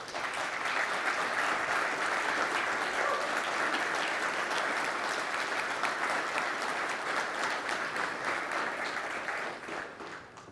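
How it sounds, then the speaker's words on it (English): Sustained audience applause at a conference on continuous authority to operate, a dense, steady wash of many hands clapping for about ten seconds before it tapers off at the end. "please stand for a round of applause"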